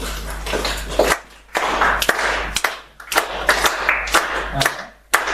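An audience at a conference keynote claps in sharp, scattered bursts close by, mixed with a murmur of voices and a low steady hum.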